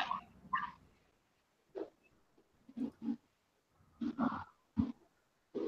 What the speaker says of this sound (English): What is this with the dog?